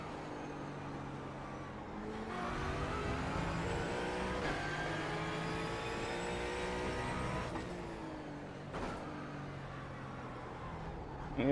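A Ford Mustang GT4 race car in iRacing at Interlagos revs hard through the gears, its engine note climbing and dropping between shifts, with brief pops and crackles on lift-off, loud and close with no talk.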